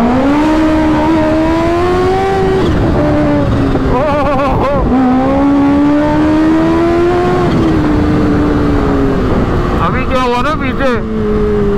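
A 2024 Kawasaki ZX6R sport bike is revved hard with the throttle while its cold rear wheel spins, a loud, near, rising and falling engine whine in several long pulls with brief gaps between them, under scattered talk.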